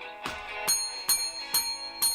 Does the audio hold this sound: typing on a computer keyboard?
no